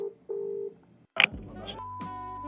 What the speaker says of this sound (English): another phone call, Brampton to Calgary